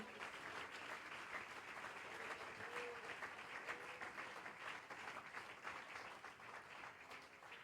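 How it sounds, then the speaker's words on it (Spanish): A church congregation applauds during a sermon, broad sustained clapping from many hands, fairly distant and even in level, with faint voices mixed in throughout. "Dele ese aplauso al Señor con libertad"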